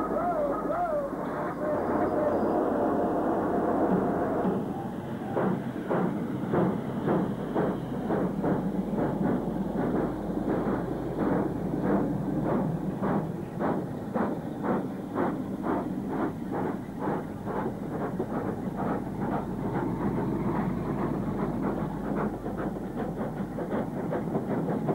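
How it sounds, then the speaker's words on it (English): A train hauled by a diesel and a steam locomotive together runs past in old archive footage, with a steady rhythmic clickety-clack of wheels over rail joints and a low engine rumble under a constant roar throughout. "we see the relatively unusual pairing of diesel and steam on a train"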